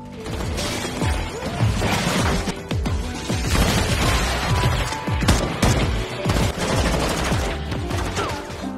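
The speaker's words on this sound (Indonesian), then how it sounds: "Jadilah baku tembak antara tentara bayarannya Haeju dengan Kangmu dan juga Misun." Gunfire from a shootout between mercenaries and the heroes in the 2024 film Mission: Cross, loud rapid bursts of shots and sharp impacts packed densely together under a busy action-scene mix.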